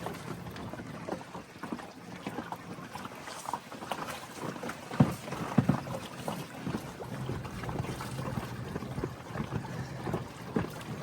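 Small boat moving over waves on open water on a windy day, giving a steady rushing and pattering of water against the hull with occasional thumps, a constant mid-level wash and no voices.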